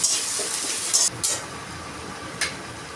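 Onions frying in a pan until lightly browned give off a steady close sizzle, with a few brief louder spits and crackles.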